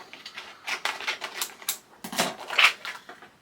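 A paper square being rough cut for a Simple Stories Simple Vintage Believe holiday scrapbook album: close, crisp irregular cutting snips and rustles, with a brief louder burst near the end.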